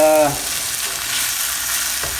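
Food sizzles and crackles steadily in a hot pan, close and bright, after a brief voice at the start.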